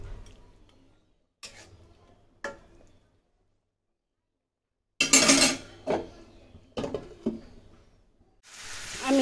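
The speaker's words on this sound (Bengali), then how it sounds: "আমি একটু ডাল ঘুনা করে নিতেছি" Dal being stirred in a metal cooking pot for bhuna dal with fish added, giving scattered scraping clinks and clatters in short bursts, with a quiet pause midway and a louder sizzling stretch toward the end.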